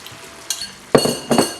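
A spoon stirs beef korma with whisked yogurt in a pot: three quick scraping, sizzling strokes with faint metal clinks, close and fairly loud against a quiet kitchen background.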